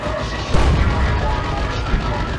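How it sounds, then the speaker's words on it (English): Side cannon fire in a Dawn of War 2: Retribution battle lands with a sharp boom about half a second in, over a dense, steady bed of loud battlefield rumble and clatter. "A little bit of chip damage coming in from the side cannon."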